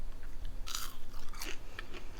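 Crisp bites and crunching on air-fried crinkle-cut french fries dipped in ketchup, a few sharp bursts close to the mouth with no talking.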